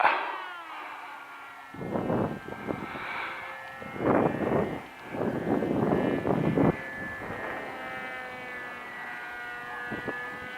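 Small Versa Wing model airplane flying slowly into the wind outdoors, its electric motor humming as a steady whine in the distance while wind buffets the microphone in gusts, no talking.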